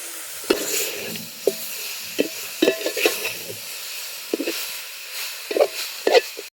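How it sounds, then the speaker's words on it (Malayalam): Chicken pieces stirred and fried in a pan give a faint sizzle broken by irregular scraping and clattering spoon strokes, fairly quiet and close. "ഇനി ഇതിലേക്ക് ചിക്കൻ ഇട്ട് കൊടുക്കുക."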